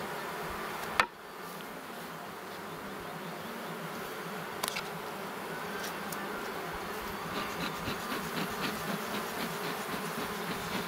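Honey bees buzz around an opened hive's brood frame, a steady dense drone that holds close and loud throughout, with a sharp knock near the start and no talking.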